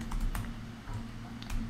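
Quick keystrokes clatter on a computer keyboard, a close, irregular run of light clicks over a low background hum with no talking.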